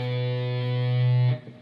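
A single muffled downstroke on an electric guitar with the bottom four strings damped, played for a blues shuffle; a distorted chord rings steadily, then is cut off abruptly near the end.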